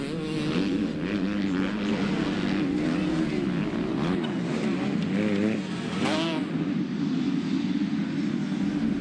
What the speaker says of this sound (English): the 286, Kyle Durham taking another hole shot on the two-stroke